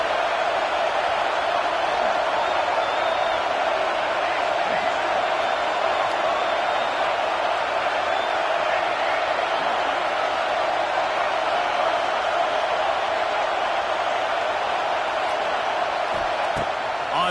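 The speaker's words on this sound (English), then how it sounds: "how nice is it to have the home crowd going absolutely bananas?" A home crowd roars in a college football video game, NCAA 26, a dense, unbroken wall of cheering noise sustained loud throughout, with commentary voices running underneath.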